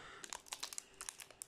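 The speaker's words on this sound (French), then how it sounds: "On va essayer celui-là de bien l'ouvrir quand même." A trading card booster pack is torn open. Quick, faint crinkles and small rips of foil packaging come in a rapid irregular flurry close by.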